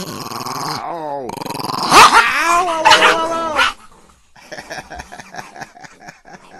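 Dogs bark, growl and whimper up close in loud, overlapping bursts, with a human voice joining in at points and quieter yips trailing off toward the end.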